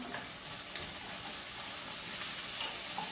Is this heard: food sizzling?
yes